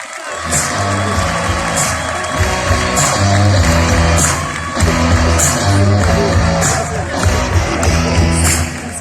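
A crowd at a Moroccan leaders' event cheers and applauds for Taha Alaoui, with dense, loud, continuous clapping and whoops mixed with music and voices throughout.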